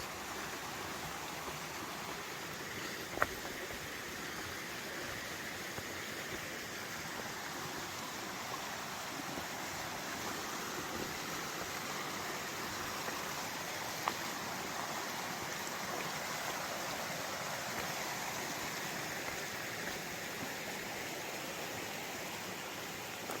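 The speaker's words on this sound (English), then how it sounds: "This is an awesome brook or whatever you want to call this." Steady, continuous rush of a brook running through a pine forest on the Appalachian Trail. Water noise fills the whole stretch evenly without pause, moderately loud and close, with no voices.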